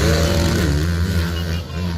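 A big racing motorcycle in a ladies' final race revs hard and continuously for about two seconds, loud and close, its pitch rising and dipping as the throttle works.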